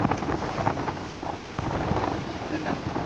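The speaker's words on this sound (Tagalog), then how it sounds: "Masarap kasi sa feeling na yung hangin ng dagat." Sea wind buffets the microphone in steady rumbling gusts, loud and close, with no clear pauses across the short stretch.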